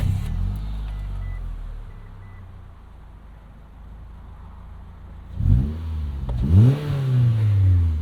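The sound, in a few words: 2008 Mitsubishi Eclipse Spyder engine running with exhaust leak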